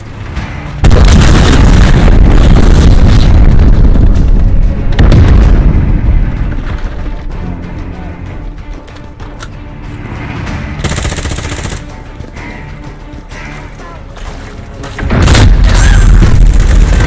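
Loud cruise missile strike explosions in the Modern Warfare beta video game: heavy booming blasts with crackling gunfire, a big burst near the start, a rumbling middle stretch and another loud blast near the end.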